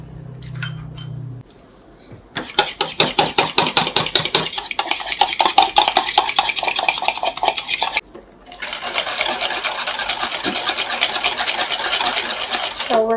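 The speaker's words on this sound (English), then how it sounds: "we're going to beat the eggs" Eggs beaten in a bowl for a pineapple cake, a fast rhythmic clinking whisk against the bowl in bursts, loud and close, with a pause and then steady continued beating.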